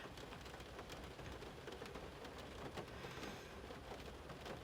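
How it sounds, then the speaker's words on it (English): Steady rain falls outside, a soft continuous hiss of drops on surfaces that stays faint and even throughout, with no voices. "sorry if you can hear rain, but it's raining while I'm doing this voiceover"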